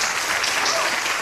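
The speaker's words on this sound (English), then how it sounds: "Everybody give Christy a big round of applause for winning the Psychic Game Show." A game show audience applauds a winner, steady dense clapping with a faint voice underneath, filling the short moment at even loudness.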